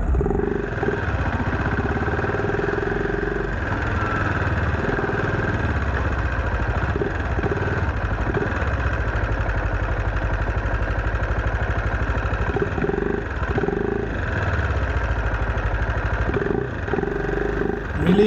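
On a trail, a motorcycle idles at rest with a steady mid-pitched throb and slight clatter, close and unbroken for a long stretch.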